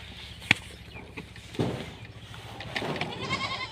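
Penned goats bleat in the morning, with one clear, strong bleat standing out among fainter calls, sharp knocks and soft shuffling movement nearby; no talking.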